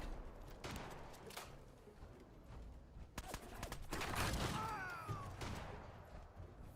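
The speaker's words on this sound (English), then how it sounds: "Since I can just walk up on them with this shotgun." Shotgun fire in Fallout 4 on Switch 2, several sharp blasts spread through a busy, faint combat scene with rumbling and whooshing effects.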